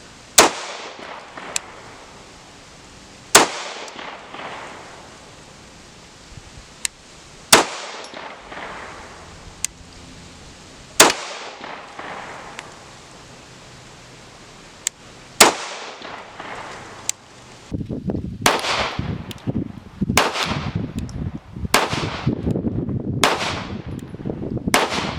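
Gunshots from a CZ Model 82 pistol chambered in 9mm Makarov, loud sharp reports spaced several seconds apart, then a faster string of shots with ringing echo toward the end.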